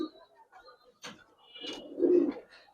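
Old-breed Giribaz coloring pigeons make soft, close cooing calls with a few brief flutters, in a quiet setting.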